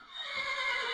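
A small horse in Minecraft gives a brief, high, wavering whinny, close and fairly loud, lasting about a second with no talk.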